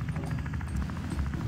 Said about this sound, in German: Lande mal kurz den Heli-Schrotter vor der Tür.